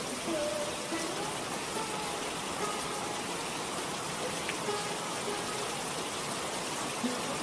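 Steady rain falls in an unbroken, even hiss, soft and constant throughout.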